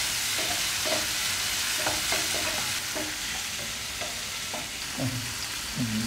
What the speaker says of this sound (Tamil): இப்போ 2 தக்காளி கட் பண்ணி இருந்ததை அதையும் போட்டுக்கிறோம். இதையும் நல்லா வதக்கிடுங்க.